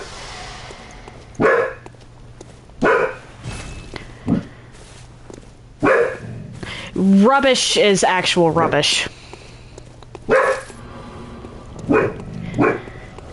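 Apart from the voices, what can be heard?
dog barking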